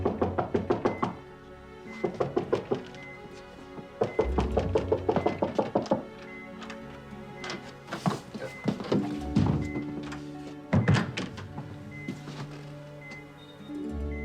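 Knocking on a room door in a dubbed drama, repeated bursts of firm raps in quick rhythmic groups with pauses between, loud and close.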